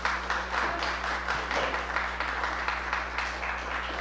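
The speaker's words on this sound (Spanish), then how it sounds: "Denle un aplauso a Dios." A church congregation claps together at a Catholic service, a fairly quiet wash of applause with a steady low hum beneath it and no talking.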